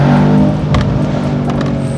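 Mercedes-AMG E53 Cabriolet 4MATIC+ engine during a paddle-shift downshift, a loud close rumbling drone with quick throttle blips and a short revving surge, no talking.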